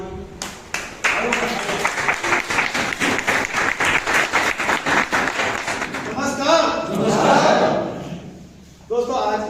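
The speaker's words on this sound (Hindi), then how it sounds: "खड़े होकर आप सबकी जोरदार तालियों के बीच मैं आमंत्रित करता हूँ" Loud, sustained applause from an audience at an Ayurveda company event, many hands clapping steadily for several seconds before fading into crowd murmur and shuffling.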